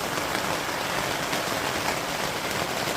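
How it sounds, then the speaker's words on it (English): Heavy rain drums continuously on a tent, a dense, even hiss of drops close overhead with no pauses and no voices. "we've had this downpour now for about half an hour"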